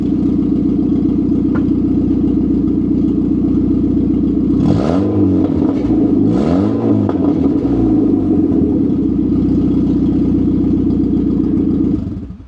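An MG ZR car engine idles steadily and loudly, then is revved twice in quick succession, each rise and fall a throaty surge, before settling back to idle and cutting off.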